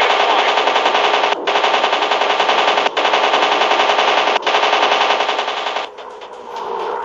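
Gatling guns strafing from a fighter plane in a World War 2 dogfight game, a loud, steady machine-gun roar that runs for seconds with three brief breaks before fading lower.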